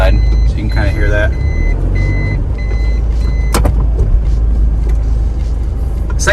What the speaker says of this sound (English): when you put it in reverse, it does have a backup beep. But it's only on the inside